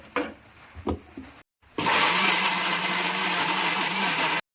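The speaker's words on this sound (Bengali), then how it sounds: "মিক্সিং জারে দিয়ে পেস্ট করে নেব কাঁঠালগুলো" A mixer grinder whirs loudly and steadily as it blends ripe jackfruit with sugar into a paste, starting abruptly after a short silence and a couple of clunks, then running on at full power until it cuts off.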